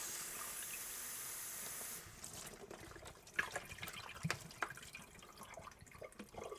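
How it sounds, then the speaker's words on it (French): Tap water runs at a kitchen sink to rinse out a bottle, a soft trickle and splash after a quiet start, with irregular sloshing bursts as the bottle fills and water moves inside it, no voices. "on va à l'évier. Et on vient rincer avec de l'eau."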